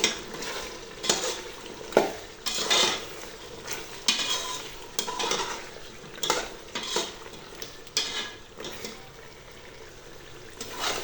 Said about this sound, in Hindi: अब इनको अच्छी तरह हिला कर मिक्स कर लेते हैं।